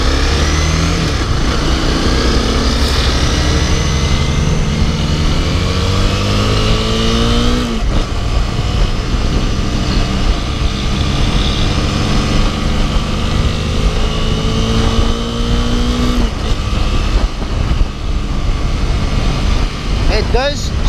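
A Honda CBR 250R motorcycle ridden on damp roads, its engine revving up through the gears with smooth shifts and rising pitch, loud and close with wind noise, while the rider talks over it.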